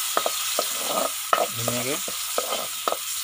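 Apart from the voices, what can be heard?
lentils frying in oil in a pan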